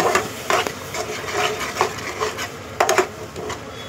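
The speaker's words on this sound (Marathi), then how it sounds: "ढवळून घेऊ" A spoon scrapes and knocks against a pot in uneven strokes, close and clear, stirring thick paneer tikka gravy with added paste and water, a light sizzle beneath.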